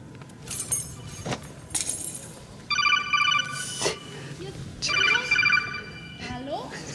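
A telephone rings with an incoming call, several short bursts of bright electronic ringing at moderate loudness, with people chatting and moving around in a room between the rings.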